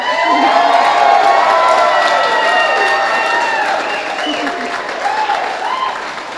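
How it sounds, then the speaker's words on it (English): Wedding guests applaud and cheer in a lively room, a broad wash of clapping mixed with excited voices and shouts that stays loud throughout and eases slightly toward the end. "Please give her a round of applause."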